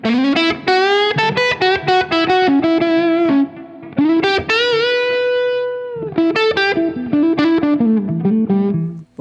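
A Les Paul electric guitar on its neck pickup, through warm overdrive, plays a lively melodic phrase of quick notes and sustained bends, loud and up close.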